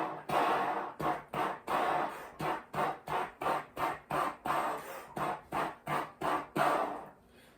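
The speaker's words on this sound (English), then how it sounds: "making sure that slide, air, and tongue are connected before I add the notes" On a tenor trombone, breath is pushed through with the slide moving and the tongue articulating but no notes played, making a steady run of about sixteen breathy, evenly pulsed puffs that fade at the end.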